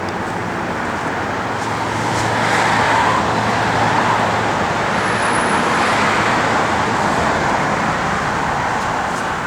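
A 1966 Pontiac GTO runs and drives with a steady, loud engine and road roar that swells slightly midway and holds without a break.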